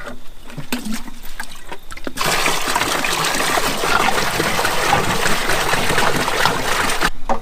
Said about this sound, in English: All right, we got her some fresh water in there.